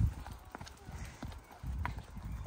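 Horses walking along a hiking trail between Eschenbach and Rapperswil-Jona, their hooves clip-clopping in a steady, close rhythm while a person talks over them.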